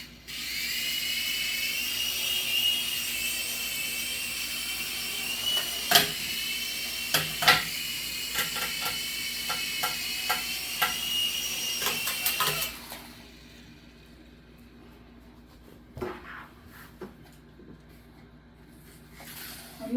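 Small Sky Rover KnightVision toy helicopter drone flying, a high, thin whine held close for about twelve seconds and broken by a few sharp knocks, then cutting off to quiet with scattered handling clicks.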